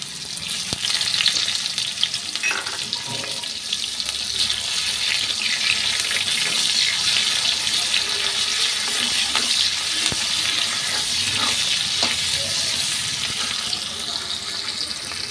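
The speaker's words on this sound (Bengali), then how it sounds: "এবার এই পেঁয়াজটাও হালকা লাল লাল করে ভেজে নেব" Onion frying in hot oil with tempering spices while a Bengali mustard hilsa curry is cooked, a steady loud sizzle running the whole time with occasional scrape and stir clicks, no voices.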